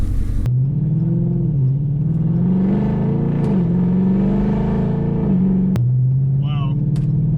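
A Dodge Charger or Challenger fitted with a Pedal Commander set to sport +4 accelerates hard, its engine rumbling and rising in pitch through gear changes, heard from inside the cabin with a voice talking over it.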